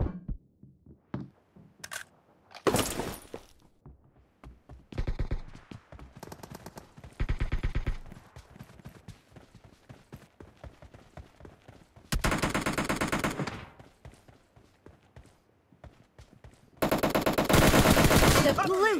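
Gunfire in PUBG Mobile multiplayer: sharp bursts of automatic fire and single shots come in loud clusters separated by quieter stretches, with the longest, densest bursts near the end.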